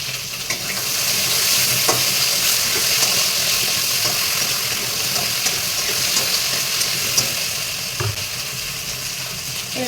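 Nigella seeds and fish curry ingredients fry in hot oil with a steady, dense sizzle and crackle close by, broken by occasional stirring clatter and scrapes, and no voices.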